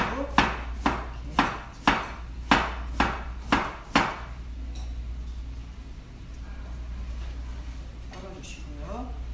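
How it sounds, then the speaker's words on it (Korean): A knife cuts Korean pear into 3 cm pieces on a cutting board: eight crisp, evenly spaced chops close by, then quieter handling with a faint knock or two near the end. "배도 무와 같은 크기로 썰겠습니다"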